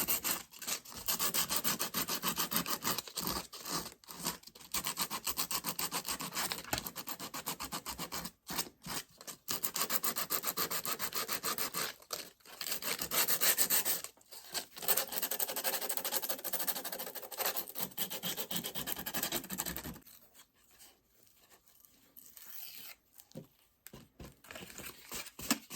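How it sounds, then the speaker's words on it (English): Sandpaper rubbed briskly back and forth along wooden edges of an Easter craft piece, a dense continuous scratchy rasp with short gaps between strokes, close to the microphone and without talk. "Now I'm going to get me a piece of sandpaper."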